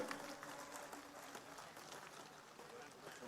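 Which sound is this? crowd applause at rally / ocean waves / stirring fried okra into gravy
crowd applause at rally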